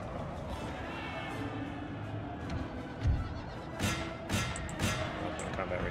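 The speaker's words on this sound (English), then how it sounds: "Oh, we're in combat here with horses, although their horses are kind of falling back already." Cavalry horses clash in battle in the video game Total War: Napoleon, with a whinny and scattered hoof and impact bursts over a dense, steady battlefield din while someone talks throughout.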